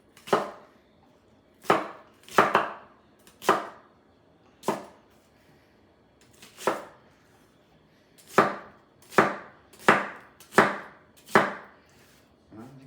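A knife roughly chops an onion on a board in about a dozen sharp, irregular thuds with quiet gaps between them, close and clear with no talking.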